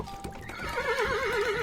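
Game horses in The Supper approach with a whinny, a wavering neigh, and clip-clopping hooves, loud and close, drowned by nothing else.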